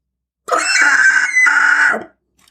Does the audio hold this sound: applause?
no